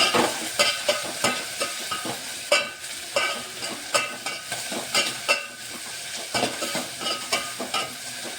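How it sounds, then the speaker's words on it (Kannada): A utensil scrapes and stirs food in a pan in repeated rhythmic strokes, with a light sizzle underneath throughout. "ಮಿಕ್ಸ್ ಮಾಡೋಣ"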